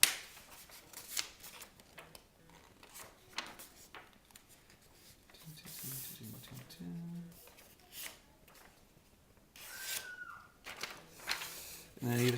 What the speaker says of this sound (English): the next thing you do is fold along the angled line.